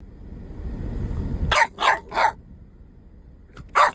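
A puppy barks three times in quick succession, then once more after a pause, fairly close and alone, each bark short and sharp over a low rumbling background.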